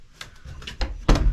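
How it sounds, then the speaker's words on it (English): A door latch on a chicken coop door gives a few light clicks and rattles, then a firmer, louder clunk as it catches near the end, all close by. "I've also put a nice door latch on the door so that we can close the chickens in."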